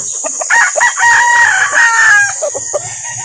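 A rooster crows loudly and close by, one long drawn-out call, with soft clucking before and after, in Barangay Dayap, Calauan, Laguna.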